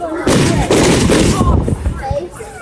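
Fireworks on bonfire night thump and crack in quick succession, echoing like distant gunfire, loud and outdoors, with voices talking through the bangs.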